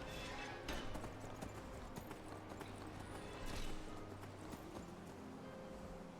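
Rhythmic clip-clop of horse hooves on the move in the video game Skyrim, steady and faint, with a soft rumble of background sound.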